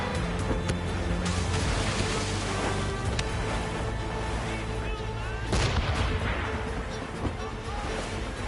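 Cannon fire from enemy ships in a naval battle video game, booming blasts and crashes layered over a constant dense roar of battle with voices mixed in, a heavier impact surging near the middle.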